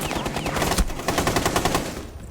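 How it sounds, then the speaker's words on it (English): Rapid bursts of automatic gunfire in Rainbow Six Siege, loud and close, firing in a fast steady rhythm for about two seconds before cutting off. "as Sad runs into that gunfire"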